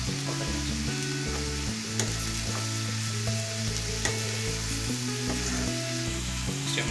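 Carrot frying and being stirred in a hot pan, a steady close sizzle with scraping stir strokes running throughout, no voices.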